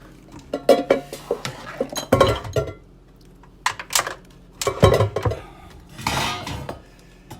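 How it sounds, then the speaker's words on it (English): Metal pots, pans and lids clatter and clank in irregular bursts, close by, with pauses between handfuls being moved. "Get all these pots and pans and lids out"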